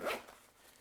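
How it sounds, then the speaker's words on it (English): A quick, brief zip of a zipper being pulled shut, close by, followed by quiet. "Zipper up."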